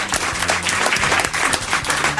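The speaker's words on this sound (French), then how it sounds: "Ah ben génial, déjà des applaudissements, c'est merveilleux." Studio audience on a French-language Québec talk show breaking into sustained applause, dense steady clapping filling the room at full volume throughout.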